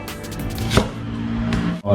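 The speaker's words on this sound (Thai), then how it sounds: "ขิงก็ล้างทำความสะอาดแล้วก็หั่นเป็นแว่นอย่างนี้นะ" A knife cuts washed ginger into rounds, with a couple of crisp chopping taps on a board over a steady background hum.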